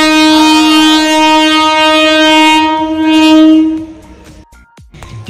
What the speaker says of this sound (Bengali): চলো, ট্রেন ঢুকে গেছে, এবার যাই।